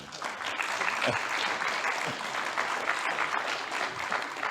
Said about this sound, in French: on peut bien sûr applaudir notre ami